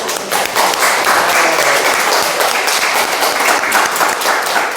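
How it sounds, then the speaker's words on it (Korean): Church congregation breaking into applause after a sermon, a continuous crowd of hands clapping steadily and fairly loudly, with no talk over it. "박수."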